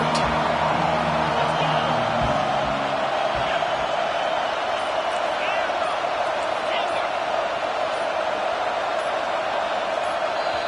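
Stadium crowd roar in an American football video game, a dense continuous wash of distant cheering and noise holding steady throughout, with faint low rumbles early on and no clear separate events.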